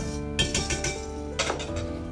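Flour, baking soda and salt being mixed in a bowl, giving close clinks and scrapes of a utensil against the bowl in quick repeated strokes.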